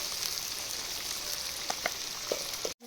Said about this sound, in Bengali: এখন লবণ দিচ্ছি, তারপর হলুদটা দিচ্ছি, তারপর একটু গুঁড়ো লঙ্কা দিচ্ছি